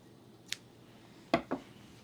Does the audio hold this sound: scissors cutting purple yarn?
yes